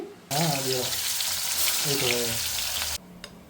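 Strips of bottle gourd peel fry in a pan with a loud, continuous hissing sizzle that cuts off abruptly near the end. Faint voices talk underneath.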